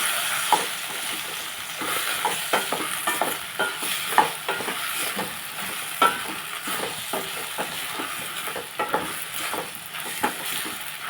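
Okra and tomato curry being stirred in a pan, a steady sizzle of frying with repeated scraping strokes of a spoon at a fairly even rhythm, close and moderately loud, with no talking.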